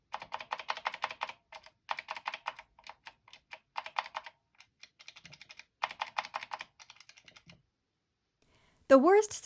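Fast, crisp key clacks from a YUNZII SK71 hot-swappable optical mechanical keyboard come in quick bursts separated by short pauses. A voice starts talking at the very end.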